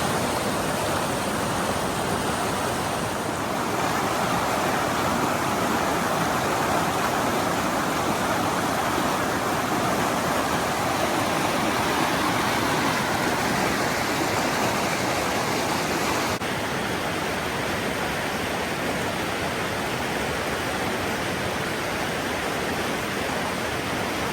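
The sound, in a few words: mountain stream water rushing downhill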